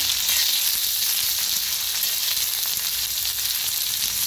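Crushed green chillies roast in a pan over a low gas flame, giving a steady, close sizzle of frying with faint crackles throughout and no one talking.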